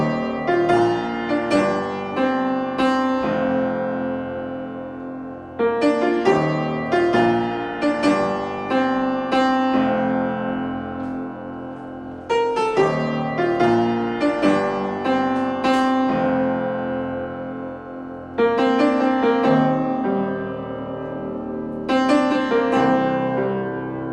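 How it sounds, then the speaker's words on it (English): Solo piano playing the melody through, clear single-note lines over chords in several phrases with pauses between, close and moderately loud, no voices. "So, the whole melody through would sound like this."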